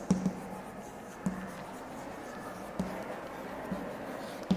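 A pen or pencil writes by hand on paper, with a steady faint scratching and a few light taps as strokes begin, close and quiet with no talk.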